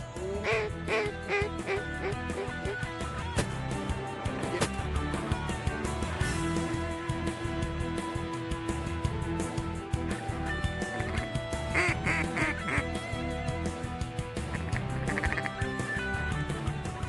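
Ducks quack repeatedly through a busy, layered outdoor scene, the calls overlapping continuously at moderate loudness.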